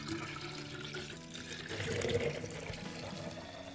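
About 1.5 litres of boiled, cooled water is poured into a jar of beetroot for homemade wine, giving a continuous, fairly soft splashing trickle that swells slightly midway.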